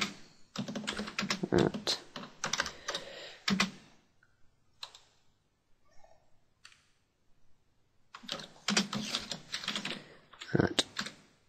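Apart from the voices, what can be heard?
typing on a computer keyboard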